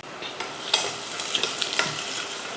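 Onion and green chillies frying in oil, a steady close sizzle with occasional scraping stirs and small crackles throughout.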